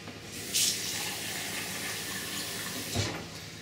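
Running cold water pours and hisses steadily into a bowl nearby, with a couple of louder splashes, no voices.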